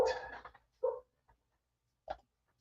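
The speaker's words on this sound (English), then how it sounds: "my whining dog" A dog lets out a few short, quiet whining cries, a longer one first and then two brief ones spaced apart, with silence in between.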